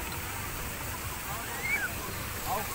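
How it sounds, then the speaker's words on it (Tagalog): Strong rushing water at Balayong, a steady loud roar close by, with a couple of faint high chirps over it. "Yan, malakas yung tubig dyan."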